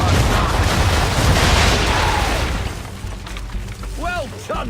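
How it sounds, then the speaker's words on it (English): Ship cannons firing a broadside in the Assassin's Creed III video game, heavy booming blasts and rumbling roar over a noisy battle scene, fading into lower rumble with a voice calling out near the end. "Fire broadside!"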